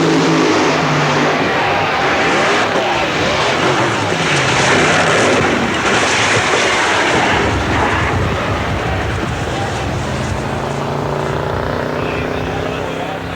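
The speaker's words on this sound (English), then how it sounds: "An incredible crash." Loud, dense roar of drag racing machinery at the 1984 NHRA Cajun Nationals in Baton Rouge, a broadband mechanical rush with rumbling low end through a crash, continuous and close for the whole stretch, with a commentator's voice over it.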